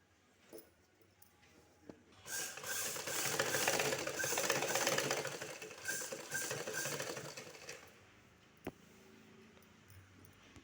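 A sewing machine runs steadily for several seconds while stitching blouse cloth, a continuous mechanical whir that starts and stops cleanly, fairly faint and with no talk over it.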